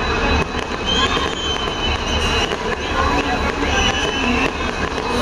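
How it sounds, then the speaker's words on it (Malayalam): The Chennai Central Express from Bodinayakkanur rolls along its route, a loud, close rumble with repeated sharp clacks of wheels over rail joints, alongside some faint voices. "ചെന്നൈ സെൻട്രൽ എക്സ്പ്രസ് ആണ് ഈ റൂട്ടിലൂടെ സർവീസ് നടത്തുന്നത്"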